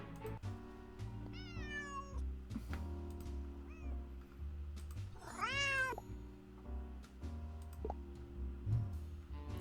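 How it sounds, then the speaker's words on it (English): A cat in Nancy Drew Alibi in Ashes gives several rising and falling meows over a dense, sustained musical backdrop, the longest and loudest meow arriving midway. "Guess I'll have to go upstairs if I want to catch that cat."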